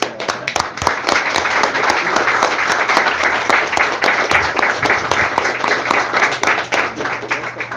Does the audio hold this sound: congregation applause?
yes